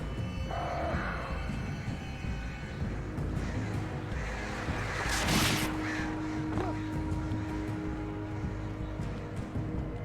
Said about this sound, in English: It's fucking birds.